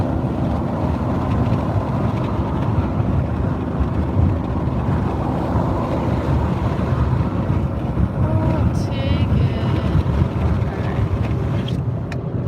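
Steady, loud wind rushing through an open truck window while driving on an open road in Florida, with a constant low roar and buffeting throughout and no clear talking.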